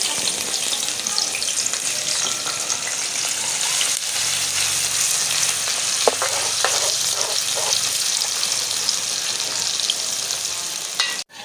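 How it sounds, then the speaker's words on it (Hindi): Onions frying in hot ghee give a steady, close, loud sizzle throughout, with a few soft stirring clinks partway through and no talking. "घी गर्म हो गया है, प्याज डाल देते हैं घी में।"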